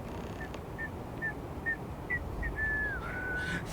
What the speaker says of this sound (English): Thanks for whistling at me.